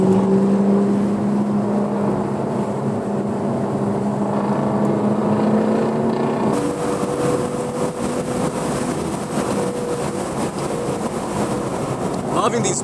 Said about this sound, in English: That N55 engine, turbocharged inline six.